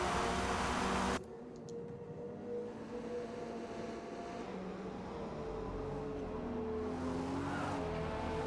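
Race cars in a sim racing endurance event at Mid-Ohio, Corvettes among them, with engines droning steadily and passing by at moderate distance after a loud burst at the start.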